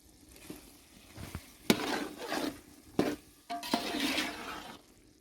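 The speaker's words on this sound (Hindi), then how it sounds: "इस दौरान यहाँ पर मसाला भी भुना जा रहा है" Spices roasting in a pot over a village wood fire, with soft sizzling, stirring scrapes and a few clanks of a spoon against the metal, fairly quiet and close.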